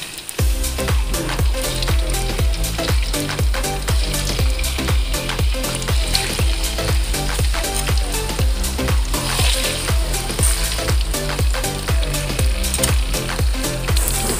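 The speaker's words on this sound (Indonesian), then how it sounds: "Panaskan minyak. Kita goreng tahunya." Tofu frying in hot oil for a Padang-style shrimp sauce dish gives a steady, loud sizzle with dense crackling pops that runs continuously throughout, with no talking.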